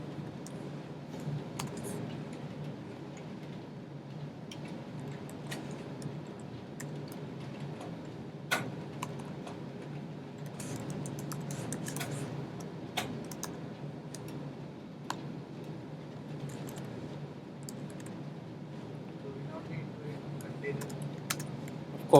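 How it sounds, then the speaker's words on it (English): Keys on a computer keyboard clack in scattered bursts while a line of HTML table code is entered, fairly quiet under a steady low room hum, with occasional sharper clicks standing out. "So I'm just going ahead and typing."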